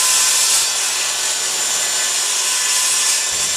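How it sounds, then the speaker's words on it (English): Circular saw ripping a straight cut through wood for a workbench bottom shelf, guided by Kreg Jig clamps: a loud, steady, high-pitched whine that holds unbroken from start to finish with no talk. "run our circular saw and get a nice straight cut"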